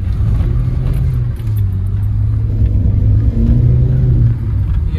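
A used Tata Safari Storme SUV's diesel engine pulls away in first gear, giving a steady, close, deep rumble that holds without a break and swells slightly as it moves off.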